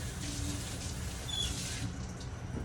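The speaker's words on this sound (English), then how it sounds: "So with this, you are just gonna rinse it so fast." A bisque-fired ceramic mug gets a very quick rinse under a running tap, a steady soft rush of water splashing for about two seconds before it cuts off, fairly close and heard alone.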